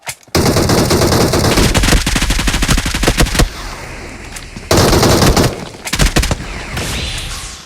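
Automatic gunfire in the BGMI mobile battle royale game, loud rapid bursts of shots in sustained volleys with brief pauses between them.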